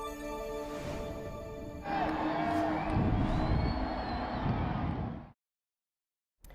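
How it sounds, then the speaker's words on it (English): Crowd at Daytona International Speedway cheering and whooping as Air Force One flies overhead, a broad roar that swells louder partway through with shouts rising above it, then cuts off abruptly. "the crowd at the Daytona International Speedway cheering as Air Force One flies overhead"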